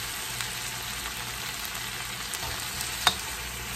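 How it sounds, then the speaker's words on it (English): Pineapple pieces cooking in a pan for sweet fire chicken give off a steady, even sizzle up close, with one brief sharp tap partway through and no speech. "so we let our pineapples cook,"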